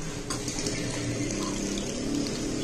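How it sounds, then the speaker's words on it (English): Water pours steadily from an Arduino-controlled RFID water dispenser, a continuous close splashing stream with no talk. "and the water starts"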